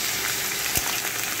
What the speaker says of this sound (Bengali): এই সবজিগুলোর মধ্যে আমি দিয়ে দিচ্ছি আদা আর কাঁচা লঙ্কা পেস্ট